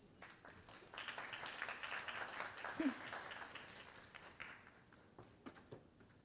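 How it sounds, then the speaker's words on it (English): A student audience at a high school conference applauds, a faint and steady patter of clapping that swells and then thins out over several seconds. "Please welcome them with a round of applause."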